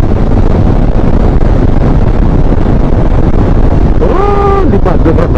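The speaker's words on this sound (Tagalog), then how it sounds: "Lakas ng hangin." Strong wind roars steadily across the microphone during a 400cc boat ride from Dasmariñas to Muntinlupa, a loud continuous rush with water noise beneath it and a brief tonal whine near the end.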